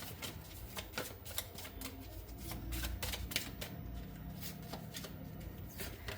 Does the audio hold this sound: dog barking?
no